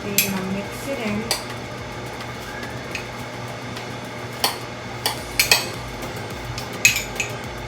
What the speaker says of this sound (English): you're just gonna sprinkle the cinnamon on top of the apples. Not too much and not too little. And you're gonna mix it in